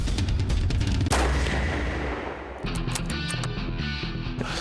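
A loud rifle shot cracks out near the start during a fox hunt on a Maryland hillside, followed by a rumbling echo and shuffling, rustling movement nearby.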